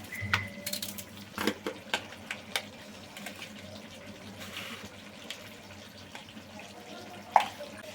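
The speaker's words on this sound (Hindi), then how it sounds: "प्याज काट लिए, अब इनको हम काला नमक लगा के अच्छे से धोएंगे।" Chopped onions are washed by hand in water with black salt in a home kitchen, giving a series of splashes, clinks and sloshes against a bowl, close and fairly clear.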